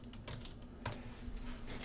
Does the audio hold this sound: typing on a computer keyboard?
yes